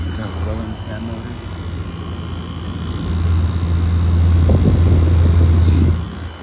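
Midea 5000BTU window air conditioner with a rolling fan motor running, a steady low hum that swells louder partway through and holds before easing off, with someone talking over it.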